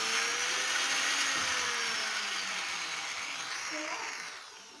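An electric mixer whirs through fairy cake batter with a steady high motor whine, loud and close, which starts to wind down toward the end.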